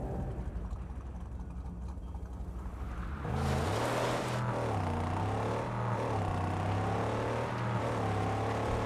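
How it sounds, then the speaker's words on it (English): A buggy engine in the PS5 video game Mad Max starts up and revs loudly, then settles into a steady, shifting drone as the vehicle drives off. "Rev it up and go, Saint"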